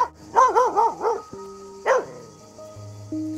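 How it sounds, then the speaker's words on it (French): A dog near a herd of goats gives a quick burst of three or four barks and then one more sharp bark, with faint background tones between them. "Noisette, t'as vu le chien?"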